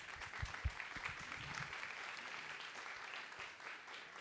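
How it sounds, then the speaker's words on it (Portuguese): Audience applause welcoming journalist Pedro Doria onto the stage at a book fair talk, with a dense, steady clapping wash from a crowd that holds through and fades slightly toward the end, with no voices over it. "Palmas para o Pedro Doria"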